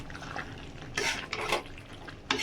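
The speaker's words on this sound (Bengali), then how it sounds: "এবার তার মধ্যে দিয়ে দেবো ধনে পাতা দিয়ে ভালো করে নাড়িয়ে নামিয়ে নেব" Pork curry with coriander leaves gets stirred in a pan, giving a few scraping, clattering strokes of a spoon against the metal over a soft background sizzle, close and without speech.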